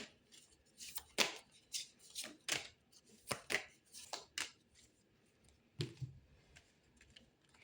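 Tarot cards being shuffled, a sequence of soft riffling, snapping bursts and shuffles in an uneven rhythm, close and quiet, with a few pauses between handling sounds.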